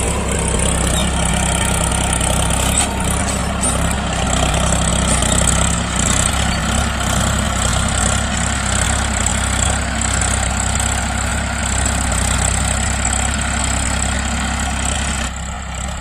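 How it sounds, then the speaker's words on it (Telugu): A tractor engine runs loudly and steadily at close range on a village farm, a constant low diesel drone with a chugging throb that holds for the whole stretch with no talking. "ఆ పాప ట్రాక్టర్ తోలుతా పోతుంది."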